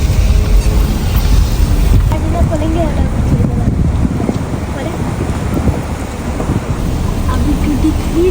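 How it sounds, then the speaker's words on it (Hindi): Strong wind and rain during a storm outdoors, a steady loud rushing roar with heavy low buffeting throughout, continuous with no pauses. "तेज़ हवाएं चल रही थी और साथ में बारिश हो रही थी।"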